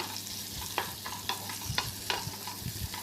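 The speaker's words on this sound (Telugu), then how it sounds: "ఆయిల్ పట్టే వరకు చక్కగా కలుపుకొని ఫ్రై చేసుకుంటూ ఉండాలండి" Onions sizzle softly in oil with a green chilli and curry leaf tempering, while a spoon stirs them in a steady rhythm of light scrapes over a low, continuous hiss.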